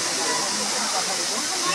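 A waterfall in India roars as a steady, dense wash of falling water, loud and unbroken throughout.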